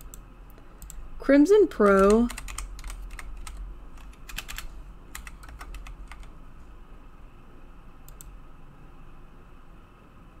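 Typing on a computer keyboard, heard as scattered light clicks that come after a short stretch of speech and continue faintly through the rest of the passage.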